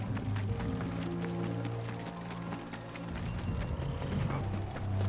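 Horse hooves clip-clop in a busy, layered Final Fantasy XVI soundscape with low droning tones and scattered clattering, no voices.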